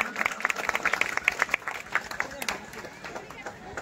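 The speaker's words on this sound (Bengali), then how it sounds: "সবাই জোরে হাততালি দেন" An audience at a community welcome gathering bursts into brief, lively clapping that peaks early and fades over a few seconds, with a voice and crowd murmur underneath.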